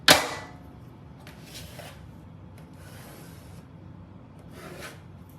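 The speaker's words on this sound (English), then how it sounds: "I'm going to trace the shape of the box so I know where to cut the" A pencil traces the outline of an electrical box onto drywall. Several short, close scratchy rubbing strokes come in bursts after an initial tap, with quiet gaps between them.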